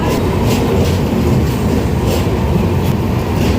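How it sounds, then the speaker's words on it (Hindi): A passenger express train pulls into platform 5 at an Indian station, a loud, steady rumble of wheels and carriages close by with faint rhythmic clatter. "ये अपना ट्रेन का यहाँ पे अराइवल हो चुका है प्लेटफॉर्म नंबर 5 पे"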